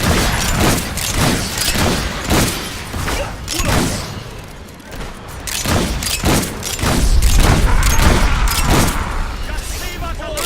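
Gunfire against an army in Fable 3: a continuous battle of repeated loud shots and booms at an irregular, rapid rhythm, with thuds and mechanical clatter, and shouting voices mixed in.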